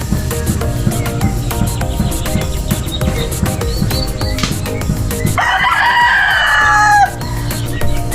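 Chickens in a small backyard farm cluck steadily up close, then a rooster gives a loud, clear crow near the end, with a steady outdoor hum beneath.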